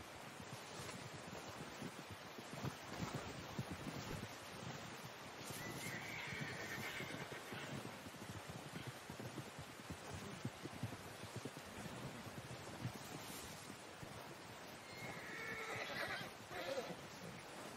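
A horse in Red Dead Redemption 2 gives faint, brief whinnies a few times over a steady wash of wind and surf-like noise, with soft clip-clop and no talking.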